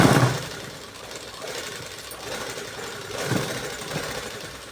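A sewing machine stitching the back part of a blouse runs in short mechanical bursts, a close, rattling whir that rises and falls between pauses.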